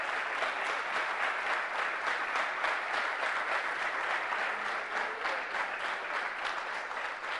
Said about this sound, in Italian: è bello che l'abbiano fatto anche loro tre l'applauso ai loro concittadini